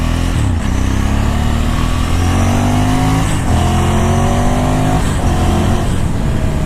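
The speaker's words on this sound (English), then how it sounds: "We're ripping a few wheelies through the neighborhood, which is probably not good." A motorcycle accelerates hard during wheelies through a neighborhood, loud and close, with the engine climbing in pitch through several gear shifts and no talking.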